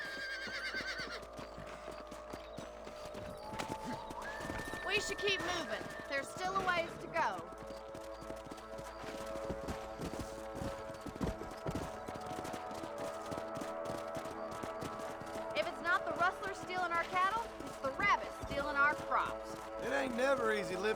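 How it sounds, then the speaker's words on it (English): Horses clip-clopping and running with occasional whinnies in the Western video game Red Dead Redemption, hoofbeats under character dialogue and background music. "Let's get back on the horses and see what else is going on."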